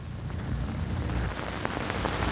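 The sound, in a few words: rain falling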